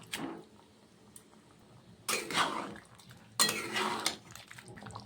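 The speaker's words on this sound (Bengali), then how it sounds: "ঝোলটা ফুটে উঠেছে এখন পনিরগুলো দিয়ে দেব" Paneer pieces dropped into a pot of boiling gravy for kohlrabi paneer dalna, heard as two bursts of clattering and stirring against cookware, separated by quieter simmering, with no talking.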